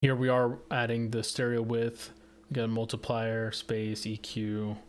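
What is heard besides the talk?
None of the usual background noises is heard.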